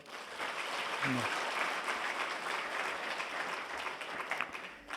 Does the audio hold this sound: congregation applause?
yes